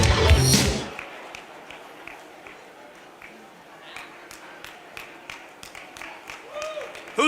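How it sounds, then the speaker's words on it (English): A lone person claps in a quiet hall at the Republican Jewish Coalition Annual Leadership Summit. After a loud opening burst, the sharp, isolated claps fall at a steady rhythm, with nobody else joining in. "Who's the one person clapping?"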